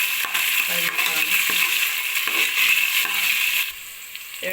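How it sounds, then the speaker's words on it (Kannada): Mustard seeds, curry leaves and onion frying in hot oil for a sprouted-gram sambar, a steady bright sizzle with scattered crackles and a few stirring clinks, loud and close with no voices. "ಸಾಸಿವೆ ಹಾಕೊತಾ ಇದ್ದೀನಿ, ಕರಿಬೇವು, ಈರುಳ್ಳಿ, ಚೆನ್ನಾಗಿ ಫ್ರೈ ಮಾಡೋಣ"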